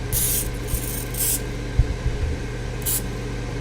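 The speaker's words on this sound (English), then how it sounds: "Spray oil on all sides of taquitos." Cooking oil spray hisses onto cheese taquitos being prepared for an air fryer. A few short, close bursts come in quick succession, then one more after a pause, with faint handling bumps between them.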